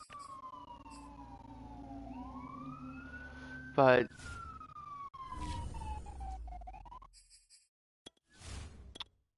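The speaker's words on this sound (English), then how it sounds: "A lot of sirens just come back." Emergency vehicle siren sweeps past, a wailing tone sliding up then gradually down as it recedes, moderately loud, with a sharp burst midway and a man's brief word near the end.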